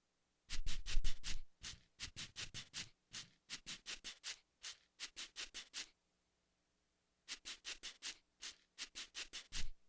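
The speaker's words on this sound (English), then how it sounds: "you can hear how much low end this shaker has" Rapid rhythmic shaking of a shaker with strong low end, in bursts of quick strokes, with brief pauses between groups, close and fairly quiet with no other sound.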